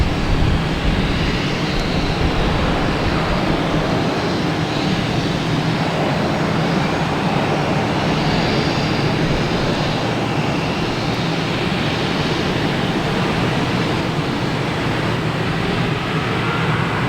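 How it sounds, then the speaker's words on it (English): A Delta Airbus A321 bound for Atlanta takes off at Boston Logan, a steady, loud jet engine roar that holds evenly throughout with no voices over it. "We have Delta here though, next going up, heading to Atlanta, an A321."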